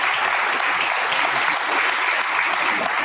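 Audience clapping at a live talk show recording, a dense, loud, continuous wash of applause filling the whole short stretch with no break.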